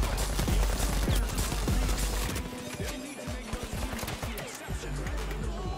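Video game gunfire from a turret during a tournament finals match, loud rapid bursts of repeated shots that fill the scene and continue alongside other game effects.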